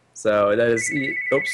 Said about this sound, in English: Actually, that's my phone.